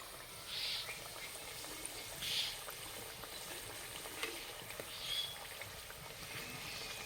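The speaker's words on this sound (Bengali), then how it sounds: "আস্তে আস্তে জাল দেবার ভেজে নেব।" A cabbage-stuffed paratha fries slowly in a pan, giving a soft, steady sizzle and crackle with faint pops, quiet and close, with no voices.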